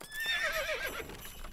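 A cartoon horse whinnies loudly in an animated Christmas special, a rising and falling neigh of about a second with faint background sound, no talking.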